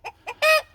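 A rooster clucks close by: two short clucks followed by a longer, louder squawking cluck.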